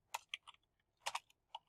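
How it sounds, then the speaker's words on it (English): Keys on a computer keyboard are tapped as a short tag is entered, giving a few quick, faint clicks in irregular bursts with brief pauses between them. "Set a tag. So his tag is, I'll just write in"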